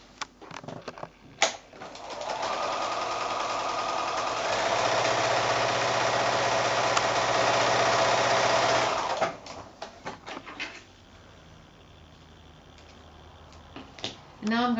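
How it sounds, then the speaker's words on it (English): A sewing machine stitches a quarter-inch seam joining quilt pieces made from 5-inch squares, running as a steady continuous whir for about seven seconds, preceded and followed by brief handling noises and quieter stretches. "back to the sewing machine to do some more sewing"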